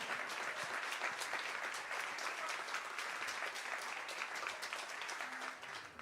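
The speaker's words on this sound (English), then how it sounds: "give it a round of applause to this trombone section" Steady, dense applause from a large audience at a live jazz orchestra concert, continuous clapping at an even level throughout.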